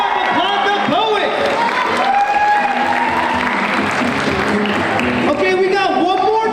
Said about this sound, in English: Give it up, applaud the poet.